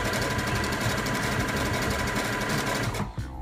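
A sewing machine stitches a fabric seam for a handkerchief scarf at a longer stitch length, running in a fast, steady mechanical whir up close before stopping abruptly near the end.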